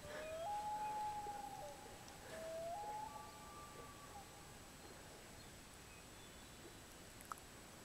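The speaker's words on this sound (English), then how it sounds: "Got loons on one side and frogs on the other." Loons call at sunset, two long rising wavering wails that carry over open water from a little distance, after which quiet air and faint ticking background are left.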